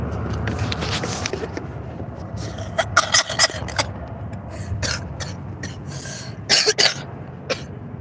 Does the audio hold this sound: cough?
yes